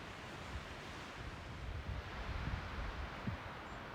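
Steady wind roaring over an Appalachian mountaintop on the TN/NC border, a broad continuous rush with low gusty buffeting, close and moderately loud, with no voices.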